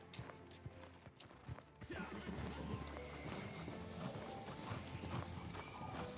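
A horse gallops in the fantasy game New World, giving rapid, rhythmic hoofbeats close by along with a whinny. The clip opens quietly, then the hoof clatter grows louder and steadier under a faint voice.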